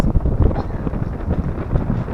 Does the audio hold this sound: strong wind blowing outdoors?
yes